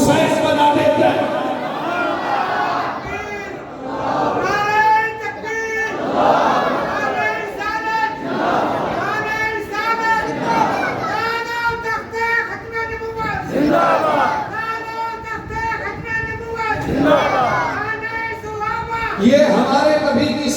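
A large crowd at a religious gathering chants slogans in unison, loud and close. Rhythmic waves of voiced shouting repeat every couple of seconds throughout.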